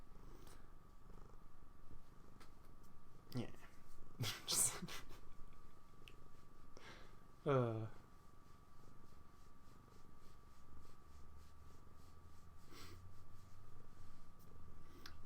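A pet cat purring softly and continuously, low and close, with a brief spoken word and a few rustles over it.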